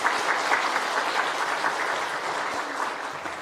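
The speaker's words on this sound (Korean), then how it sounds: "자축의 박수도 한번 올려드리겠습니다" Church congregation applause, a steady wash of many hands clapping together, dense and sustained throughout at an even loudness with no pauses.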